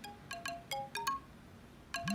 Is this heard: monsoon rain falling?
no